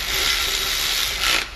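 A ratchet clicks as it snugs a 10 millimeter bolt on an alternator bracket during an LS engine swap into a Lexus IS300. It gives a close, continuous fast clicking with a brief louder burst at the end, and no talk.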